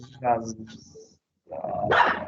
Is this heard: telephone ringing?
no